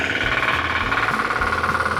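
A Firman rotary tiller plough engine runs in second gear on former corn land, a steady loud mechanical drone with rhythmic knocking pulses from the rotating tines, continuous throughout with no talk.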